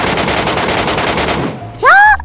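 Rapid automatic gunfire rattles steadily in a first-person extraction shooter's ruined building, a dense unbroken burst that cuts off abruptly, followed by a short warbling tone.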